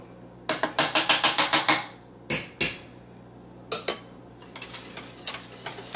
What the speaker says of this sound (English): I will whisk it a little bit more